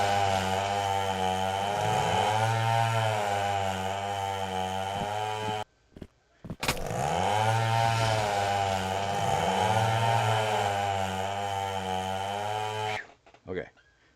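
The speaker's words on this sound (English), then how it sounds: "Now, if you use a chainsaw to cut one down," A chainsaw cutting down a tree in a video game, its engine revving loudly and rising and falling in pitch through repeated cuts, with two short gaps of near silence and no talk over it.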